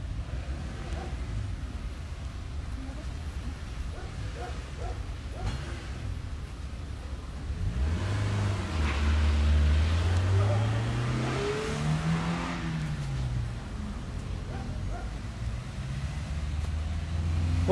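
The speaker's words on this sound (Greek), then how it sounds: "Όλα τα αυτοκίνητα κάνουν αναστροφή να γυρίσουν." Several cars turn around and drive off on a road, engines rising and revving nearer toward the middle before easing away, with faint crowd noise in the background.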